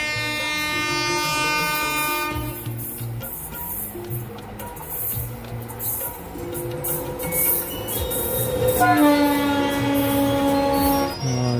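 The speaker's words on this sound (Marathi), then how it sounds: "फायनली ट्रेन पण आले माल डब्बा येतो" A passing freight train rumbles with a long horn blast at the start and again later, wheels clattering over the tracks in between.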